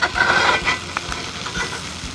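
Potatoes sizzle in a pan for corned beef hash, a steady frying hiss with a few scraping stirs punctuating it, close and fairly loud.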